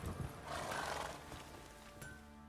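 A horse neighs in The Witcher 3: Wild Hunt, a faint whinny over game ambience with a few hoof-like clops beneath, quiet and brief.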